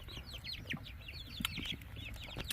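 A young Wyandotte chick that is turning out to be a rooster clucks and chirps in quick, repeated bursts at close range, with a few sharper calls among them.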